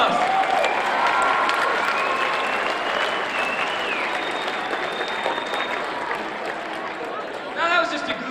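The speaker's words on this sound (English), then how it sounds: "Give them another round of applause." A leadership-talk audience gives another round of applause to teen volunteers who took part in a game onstage: loud, sustained clapping from a large crowd that tapers slightly, with a few voices and a whistle mixed in.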